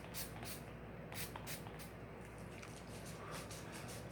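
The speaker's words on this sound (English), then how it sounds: "And just a couple sprays." Several short, soft spritzes from a bottle of makeup setting spray, quiet and close, spaced irregularly with faint rustling in between.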